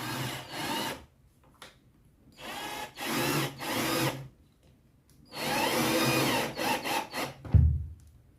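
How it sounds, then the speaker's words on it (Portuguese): Power drill boring a hole in a sealed speaker box, three loud bursts of whirring and grinding with short pauses between, ending in a clunk. "E vai ser feito o furo aqui na raça"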